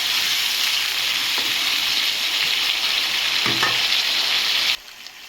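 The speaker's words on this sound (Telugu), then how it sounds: "ఇలా మొత్తం ఒకసారి కలిపేసి సిమ్లో మగ్గనిద్దాం." A tomato and red chilli mixture simmers in a pan for chutney, giving an even, close hissing sizzle with faint stirring taps, then cutting off abruptly near the end.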